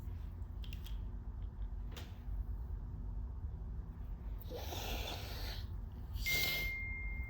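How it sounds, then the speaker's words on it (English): A phone gives a short, bright notification ding near the end, preceded by a softer chime, over a quiet room hum. "That dinging the phone"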